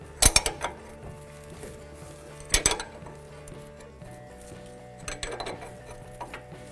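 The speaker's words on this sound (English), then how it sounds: "I'm going to use a 10mm socket and a ratchet." A ratchet fitted with a 10mm socket holding a stud on a 2009 Ford Escape front strut, giving a few sharp metallic clicks and clinks in separate bursts with quiet gaps between.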